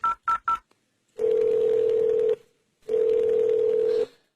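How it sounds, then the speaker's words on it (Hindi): A telephone being dialed: three quick keypad tones, then two long steady tones separated by a short pause, clear and close with no talking. "मैं अभी अपने बेटे को फोन करती हूँ"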